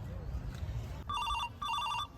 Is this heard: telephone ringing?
yes